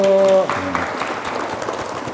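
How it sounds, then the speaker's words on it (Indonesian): A women's religious study gathering applauding after a sung or chanted line cuts off; scattered, moderately loud clapping continues steadily to the end. "Masya Allah, tepuk tangan Ibu."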